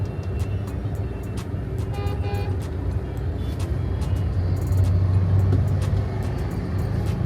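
A car drives through heavy city traffic with a steady road rumble and engine hum, distant horns and brief higher tones cutting through, continuous and fairly loud.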